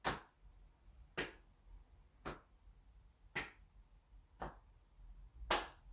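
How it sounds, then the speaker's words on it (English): During a seated chair exercise, hands clap in a slow, even rhythm, six sharp claps about a second apart, with faint softer taps on the legs between them. "When you're ready, tap the legs, clap the hands."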